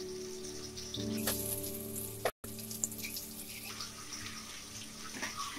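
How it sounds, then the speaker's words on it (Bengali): Scored eggs fry lightly in mustard oil in a pan, giving a soft, steady close hiss with a few small pops and one brief dropout partway through. "রান্নাটা আমি সর্ষের তেলেই করবো ডিমগুলো ভেজে নেব"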